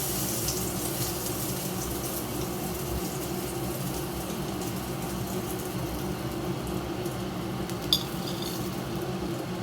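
Loitta (Bombay duck) fish pieces coated in batter, frying in hot oil Cox's Bazar hotel style as popcorn bites; a close, steady, dense sizzle throughout with one brief click near the end.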